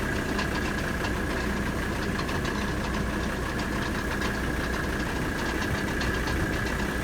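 A running 1985 Mercedes 300D with a failing AC compressor, giving a steady, continuous mechanical knocking and rattling drone over an idling engine, close and constant throughout with no talking.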